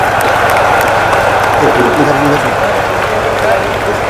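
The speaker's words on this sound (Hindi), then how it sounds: "जोरदार क्लैपिंग इन लोगों के लिए।" School students at an assembly applaud loudly: a dense, steady wall of clapping from a large crowd, with voices mixed in throughout.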